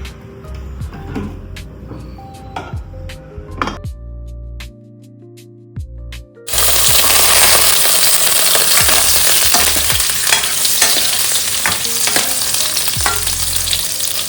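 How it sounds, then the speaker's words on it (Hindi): Potatoes fry in a pan for an Indian suran (yam) curry. A few quiet clinks and stirring knocks come first, then a loud, steady sizzle bursts in and keeps going, with scraping stirs on top. "अब इसके बाद आलू को थोड़ा फ्राई करेंगे।"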